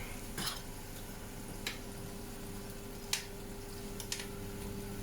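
Potatoes frying in a pan at a rugby club cook-along, a steady sizzle with a low hum under it and a few faint clicks of utensils against the pan, no talking.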